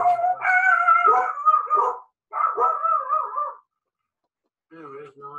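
Several dogs howl and whine in long wavering tones, two sustained bursts followed by a shorter one after a pause, fairly close and loud, with no other sounds around them.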